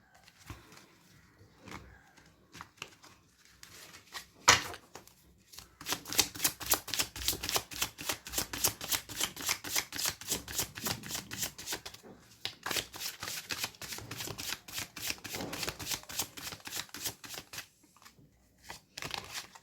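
Tarot cards are shuffled close up in a long, steady run of quick riffling flutters after a quiet start, with no talking.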